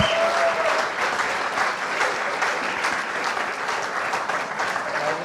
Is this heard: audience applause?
yes